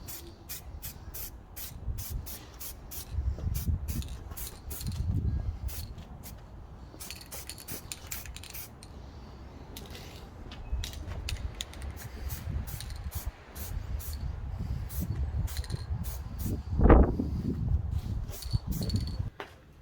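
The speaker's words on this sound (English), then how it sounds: "I'm going to paint it satin black so it blends in." Satin black aerosol spray paint hisses onto a fabricated steel fog light bracket for a campervan, in repeated short and longer bursts close by, with rustling and handling noises between the sprays.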